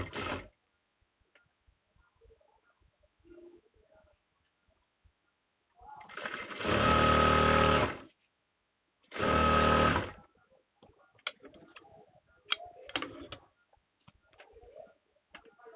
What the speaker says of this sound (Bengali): এটা হাইটাকে সেলাই করে নেবেন